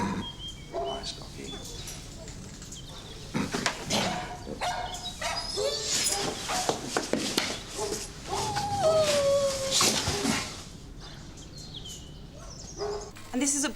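A dog barks and whimpers in a tense police-drama scene, with sharp barks rising over scuffling and a voice in the background.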